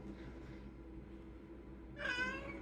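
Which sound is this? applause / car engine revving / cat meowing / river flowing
cat meowing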